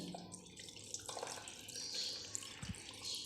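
Water from a tap splashes gently over strained chhena, fresh cheese curds, in a cloth to rinse away lemon juice while making Bengali rasgulla; a soft, close running trickle with no talk.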